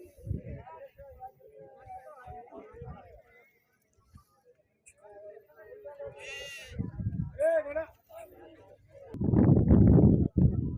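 Sheep bleat a few times amid nearby talk at a weekly livestock market in Venkatapur, Rajanna Sircilla district, followed by a burst of loud rustling and bustle close by.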